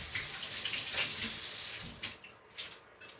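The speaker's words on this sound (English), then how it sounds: "I'm just going to rinse my hands quick." Running tap water splashes steadily as hands are rinsed at a kitchen sink, a continuous hiss for about two seconds before it breaks into a few brief splashes and drips.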